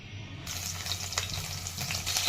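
Paneer fries in a pan with a steady, close crackling sizzle, dense and even throughout with small bursts of spitting oil.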